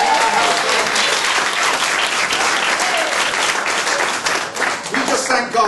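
Loud, dense clapping from a church congregation during a worship service, sustained throughout with a voice breaking in near the end.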